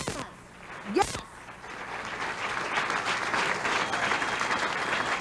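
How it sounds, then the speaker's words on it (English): A live audience applauds Matt Drudge at a new media event, a brief sharp sound first, then clapping swelling into a steady, dense roar that holds to the end. "give him a round of applause"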